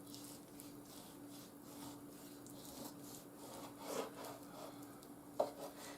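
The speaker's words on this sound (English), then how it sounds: "I'm just going to cube it" A knife cuts a fatty pork roast into cubes, giving faint, steady sawing and rubbing strokes with a couple of slightly sharper cuts near the end, and no talk.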